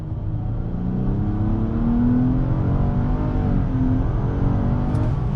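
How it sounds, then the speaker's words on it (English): A 2021 Nissan Maxima 40th Anniversary Edition with 300 horsepower pulls away from a dead stop under throttle; a steady engine drone builds and rises in pitch, heard from inside the cabin without talk. "let's see how on throttle works from a dead stop"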